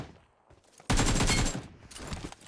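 Gunfire in PUBG Mobile, one loud, fast burst of automatic shots lasting about half a second, then a fainter, shorter rattle, with quiet gaps around them.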